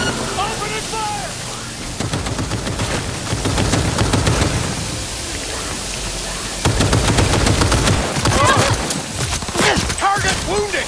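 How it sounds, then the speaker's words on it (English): Rapid automatic gunfire in a firefight in the video game Cyberpunk 2077, dense bursts of shots throughout with shouting voices over the top. "Opening fire!"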